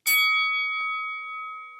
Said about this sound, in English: I'm just going to start using a bell.